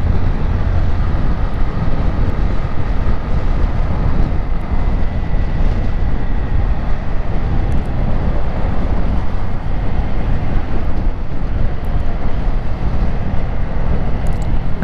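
A Honda CG 160 Fan motorcycle rides through traffic, its engine drone buried in a constant, loud roar of wind rushing over the microphone without a break.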